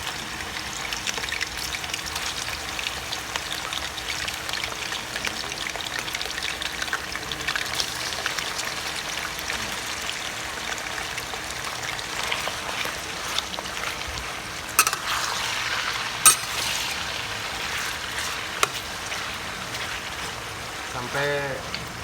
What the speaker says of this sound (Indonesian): Nah, ini minyaknya udah panas, kita goreng dulu.